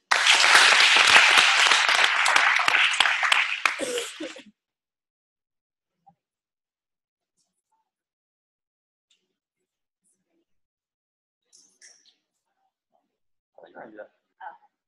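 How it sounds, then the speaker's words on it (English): Loud audience applause from a seated crowd at a stress-relief talk, dense clapping for about four seconds before stopping, followed by near silence and a few faint, brief voices. "All right, clap it up for yourself."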